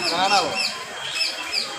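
A parrot calling at Thrissur zoo, with repeated bright, warbling chirps and whistles that rise and fall, fairly loud and near, with a voice speaking in the background.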